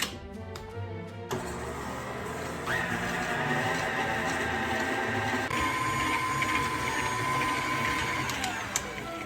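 Ingredients for a 1950s dessert batter are creamed with an electric mixer, giving a steady whirring motor hum that runs through the whole stretch and shifts pitch slightly partway through, close and continuous.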